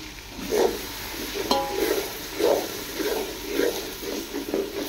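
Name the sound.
stirring vegetable biryani with chilli powder in pot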